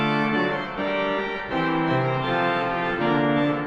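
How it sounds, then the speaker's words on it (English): Bright, sustained reed tones from the 4-foot clarion stop of the Bristol Cathedral pipe organ move through several held chords at a steady, fairly loud level. "It's 4-foot clarion companion."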